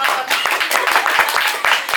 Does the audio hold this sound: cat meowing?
no